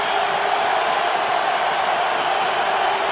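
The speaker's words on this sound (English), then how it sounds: "The crowd is literally on its feet as the final over begins." Stadium crowd cheering in the World Cricket Championship 2 video game, a steady loud roar of many voices through the final over, continuous with no clear breaks.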